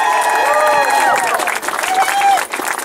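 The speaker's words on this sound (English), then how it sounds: "This is the largest crowd we've had, so give yourself a round." Crowd at a Washington County campaign rally for a congressman, Ohio's 6th District, in 2012: steady applause and cheering from a large group, with voices calling out over the clapping throughout.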